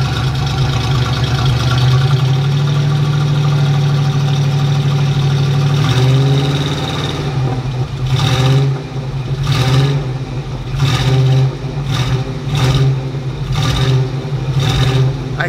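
Oldsmobile Cutlass with a 350 Rocket V8 idles with a steady low rumble, then revs up in a series of sharp bursts that rise and fall in quick succession, loud and close.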